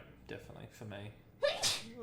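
A single sharp human sneeze bursts out close up during a casual podcast conversation ranking starter Pokémon, with someone speaking just before it.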